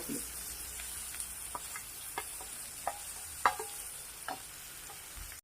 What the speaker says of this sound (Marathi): आता यामध्ये हे सर्व कारली टाकून घ्यायची